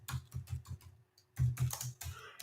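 Rapid keystrokes on a computer keyboard come in close, loud bursts with a short pause before a second, denser flurry of typing.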